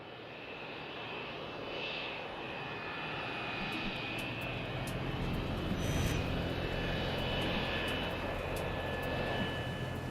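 Crossair Flight 498, an airliner at Zurich International Airport, idles with engines running while waiting to take off: a steady, loud engine roar and whine that swells slightly, heard from inside the cabin.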